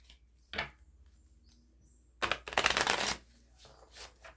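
Tarot cards are shuffled twice close up: a brief riffle, then a longer, louder riffling burst, in an otherwise quiet room.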